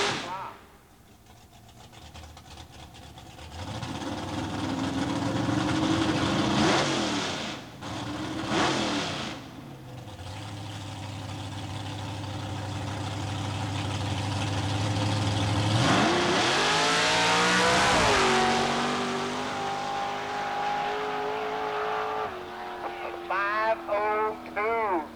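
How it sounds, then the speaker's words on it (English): A Quick 8 doorslammer drag car makes a shakedown pass at Southeastern Dragway: idling rumble, then a loud full-throttle launch and a long screaming run fading away, with brief crowd or announcer murmur near the end. "The shakedown run for one of the fast 8 Doorslammers."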